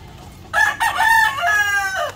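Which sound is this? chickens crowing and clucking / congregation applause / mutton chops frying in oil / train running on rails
chickens crowing and clucking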